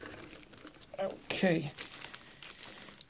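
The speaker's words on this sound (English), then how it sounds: "let's do the unboxing and find out what do we have inside the box" Plastic packaging of a Logitech K480 Bluetooth keyboard crinkles and rustles in a short close burst during unboxing, with a person talking around it.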